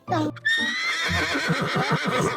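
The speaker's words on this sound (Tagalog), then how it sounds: "nakakita sila ng isang kabayo" A horse whinny sound effect used in a children's folk tale: a short snort, then a loud, drawn-out, wavering neigh that breaks into fading breathy pulses.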